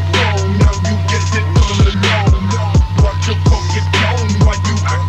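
Slowed old-style phonk bridge transition: a steady deep bass line under a regular beat of punchy kicks, with ringing bell tones and bright percussive hits repeating across the passage, loud and dense.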